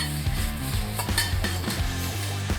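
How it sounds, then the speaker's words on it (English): A spatula tosses vegetables for a ginger beef and lobster lo mein in a pan, with rhythmic scraping and clattering strokes over a continuous sizzle and a low background hum. "So get your spatula in, give it a little stir, give it a little bit of a toss."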